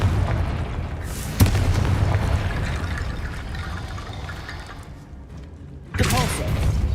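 A Confringo fire spell from Hogwarts Legacy bursts with a sharp boom about one and a half seconds in, then a second loud blast near the end, over a continuous rumbling game soundscape.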